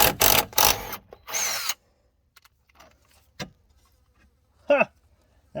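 An impact driver takes bolts out of a Jeep Gladiator fog light housing in several loud, rapid rattling bursts early on. Short quieter clicks and knocks follow, then one more brief whirring burst near the end.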